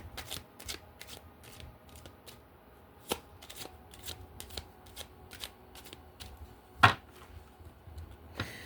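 A Gaia oracle deck is shuffled and cards are pulled: soft, quick riffling and flicking patters in irregular bursts with a few sharper snaps, quiet and close, with no voices.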